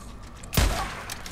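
A single sharp gunshot in the video game Days Gone cracks out loudly, followed by a brief rumbling decay against a quiet background.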